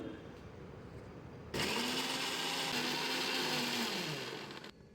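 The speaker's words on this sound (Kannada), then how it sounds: "ನೆಕ್ಸ್ಟ್ ಇದನ್ನು ಸ್ಮೂತಾಗಿ ಗ್ರೈಂಡ್ ಮಾಡ್ಕೊಳ್ಳೋಣ" Kitchen grinder whirring loudly as mango and sugar are blended smooth, switching on abruptly after a quiet moment and running steadily for about three seconds before cutting off.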